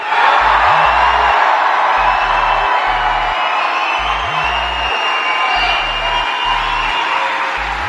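A big crowd at a Trump rally in Wisconsin cheers, whoops and applauds loudly and continuously, a dense roar of voices and clapping with a repeating low beat underneath.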